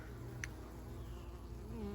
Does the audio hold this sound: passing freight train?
no